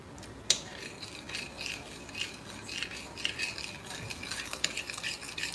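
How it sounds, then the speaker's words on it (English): Ingredients are stirred together in a bowl in a home kitchen, a close scraping and clinking of utensil against the bowl in quick repeated strokes that run on without a break and without talk. "we're just gonna stir all this together"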